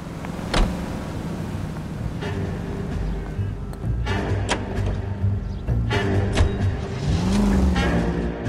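A 1940s-era car engine hums and rises as it drives through Los Angeles streets in LA Noire, steady throughout with a few shifts in pitch and occasional clunks.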